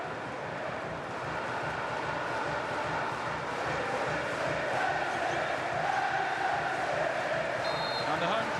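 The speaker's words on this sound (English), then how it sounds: "And the home crowd have found their voices once again." Home crowd roaring and cheering at a Coventry City v Luton Town EFL Championship football match, a steady wash of many voices filling the stadium beneath a commentator speaking.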